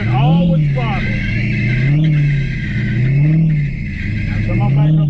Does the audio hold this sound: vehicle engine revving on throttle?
yes